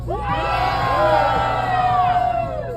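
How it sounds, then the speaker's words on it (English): A tour group in New York, edging toward Times Square, screams and cheers together in a loud, continuous crowd roar with rising and falling whoops and yells that last the full span. "you're going to wave and scream like you really don't care"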